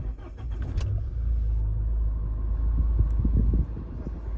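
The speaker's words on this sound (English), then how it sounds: "when I start the vehicle" A Mahindra Scorpio's engine turns over and settles into a steady low idle rumble, loud and close, with no talking.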